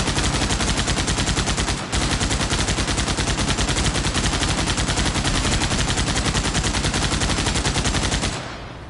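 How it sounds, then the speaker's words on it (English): Rapid automatic gunfire in Arma Reforger with a Halo mod, including a beam rifle, rattles in a dense, loud, continuous stream, briefly cutting out near two seconds before resuming and ending abruptly. "guy's got a beam rifle."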